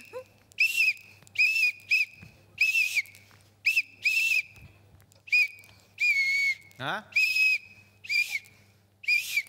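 A police-style whistle blown again and again in a long run of sharp, shrill blasts, some short and some held, close and loud, with a brief laugh and a quick vocal sweep between blasts.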